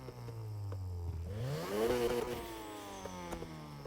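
Tuned car exhaust in the racing game NFS Heat revving up, a rasping engine tone sweeping upward to a peak, then settling back into a buzzing idle, loud and close with no voices.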